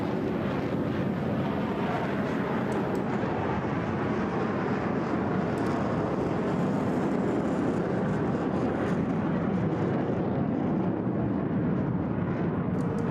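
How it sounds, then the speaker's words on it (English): HAL Tejas fighter jet at the Bahrain Air Show 2016 lighting its afterburner into a steep vertical climb after a slow speed pass, a loud continuous broadband roar that holds steady throughout. "the afterburner will be kicked back in to a steep vertical climb from the slow speed pass"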